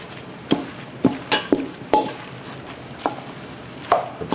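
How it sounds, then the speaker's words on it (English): A spoon stirs thick giblet cornbread dressing in a pot, making a series of about ten separate scraping, squelching strokes at an uneven rhythm, close and clear with no talking. "Let's just give that a stir."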